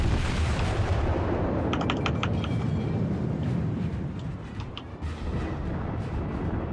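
Warship guns fire against a destroyer in World of Warships, a steady deep rumble of naval battle with a few sharper cracking reports scattered over a continuous loud roar.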